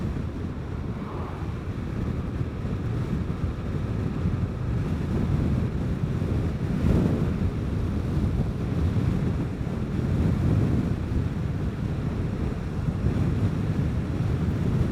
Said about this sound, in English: Pretty darn good wind there blowing on my left.